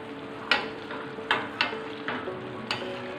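Tomato chutney frying in oil in a pan, stirred with a few scraping strokes that make sharp bursts over a steady, close sizzle.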